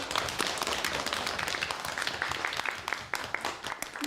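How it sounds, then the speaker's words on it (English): Continuous crowd applause with many overlapping claps, steady and moderately loud throughout, with a faint voice briefly underneath. "A nice big clap for the tall policeman."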